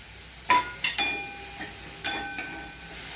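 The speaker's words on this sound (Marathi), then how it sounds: "आता ह्याच्यामध्येच थोडं साईडला करून आलं आणि लसूण घालून घेते त्याच्यात" Onion, ginger and garlic fry in a pan with a steady soft sizzle, broken by several sharp clinks and scrapes from stirring at uneven intervals.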